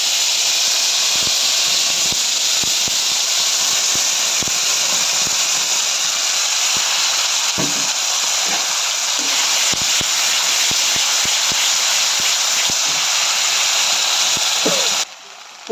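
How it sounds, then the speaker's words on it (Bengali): Ground spice paste sizzles in hot oil for a taro curry, a loud, steady hiss that holds without a break, with faint clicks and no talking. "ভাজাটা তুলে নেওয়ার পর বেটে রাখা মশলাটা মিক্সি জারে সেটা তেলের মধ্যে দিয়ে দেবো।"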